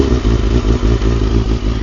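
A Honda CBR250RR MC22 motorcycle engine runs just above idle, loud and close, with a steady uneven pulsing rumble and slight clatter throughout.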